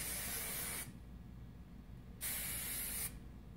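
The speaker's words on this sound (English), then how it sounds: "I'm going to finish it with some of my finishing spray." Two sharp hairspray sprays, each a steady hiss lasting about a second, separated by a pause of quiet room noise.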